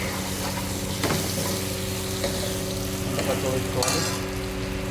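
Potato curry frying in a pan is stirred, a steady sizzle running throughout with a few louder scraping strokes of the spoon near the start and toward the end.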